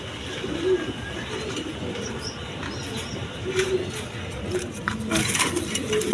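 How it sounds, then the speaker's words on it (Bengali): Pigeons for sale, including a large Rajgolla-type male and females, coo softly and repeatedly against a steady background hum, with occasional faint chirps and a voice murmuring nearby. "দেখার মতো কবুতর।"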